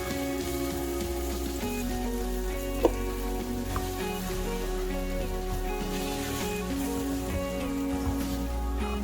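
Flour cooks in a pan for shepherd's pie, giving a low steady sizzle with faint stirring scrapes and a single sharp tap near the start, under a constant background hum.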